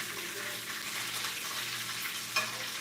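Fish and onions frying together in a pan for a fish stew, a low steady sizzle with a single sharp clink of a utensil near the end, fairly quiet, no voices.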